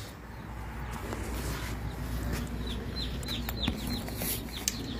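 Newly arrived baby chicks at a pickup counter, a series of repeated high, thin chirps rising over a low background hum, fairly close and moderately loud, with a few clucks mixed in.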